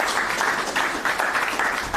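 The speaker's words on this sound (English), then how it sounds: "One more round of applause." An audience at a business talk gives a round of applause, dense clapping that holds steady for two seconds with no voices over it.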